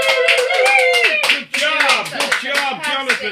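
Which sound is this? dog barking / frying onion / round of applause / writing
round of applause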